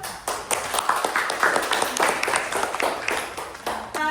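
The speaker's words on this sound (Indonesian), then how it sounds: "Kasih tepuk tangan." Students in a classroom clapping, a brief scattered burst of hand claps at moderate distance with some voices mixed in.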